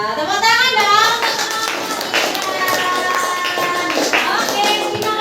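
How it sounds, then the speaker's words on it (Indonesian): Elementary schoolchildren in a Surabaya classroom clap together in a loose, lively burst, close and fairly loud, with children's voices mixed in through the clapping. "Wah, tepuk tangan dong."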